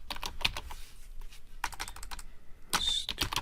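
Rapid clatter of keys on a computer keyboard while writing database code, bursts of close, crisp keystrokes separated by brief pauses, with no talking.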